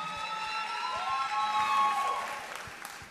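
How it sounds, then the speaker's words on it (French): Audience applause at the Miss Martinique 2024 pageant as a contestant is welcomed on stage, a steady burst of clapping from a crowd that swells and then tapers off. "sous vos applaudissements."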